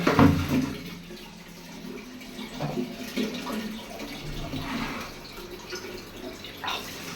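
Water running from a bathroom shower left on, a continuous splashing and spattering with uneven surges, heard nearby at moderate volume.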